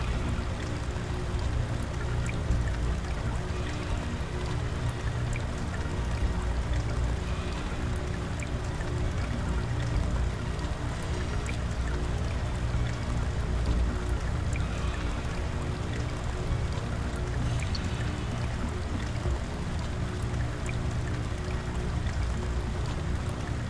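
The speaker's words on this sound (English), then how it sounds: "There's gotta be a waterfall." Waterfall and flowing water in Soul Reaver 2, a dense, steady rushing wash that fills the whole clip without pause, loud and close, with no talking.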